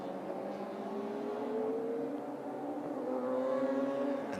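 Radical race cars circling the Spa-Francorchamps circuit during an endurance race, a steady, continuous engine drone with rising pitch sweeps as cars accelerate and pass at middle distance.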